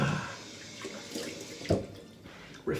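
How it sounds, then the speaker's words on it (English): Cold tap water runs into a sink as someone splashes and washes their face after shaving with a vintage Gillette razor, steady running water broken by a few sharper splashes near the end, close by and moderately quiet. "I'm going to wash off with some cold water."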